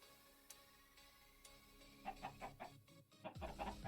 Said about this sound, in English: Oh, can those chickens shut up?